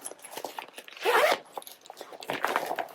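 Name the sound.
zipper on a luggage compartment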